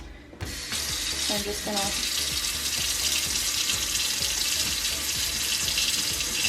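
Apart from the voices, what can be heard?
water running from a tap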